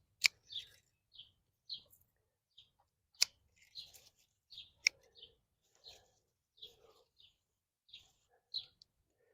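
Pruning shears snipping suckers off tomato plants in a garden, a series of sharp, quiet clicks and snips at irregular intervals, near and isolated, with soft rustling of foliage between cuts.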